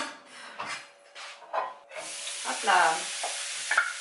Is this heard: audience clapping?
no